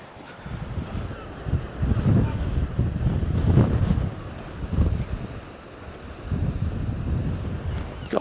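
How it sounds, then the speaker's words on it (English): Strong wind buffets the microphone in heavy gusts at the seaside in Tenby, with surf rumbling underneath and a brief voice now and then. "God, it's windy."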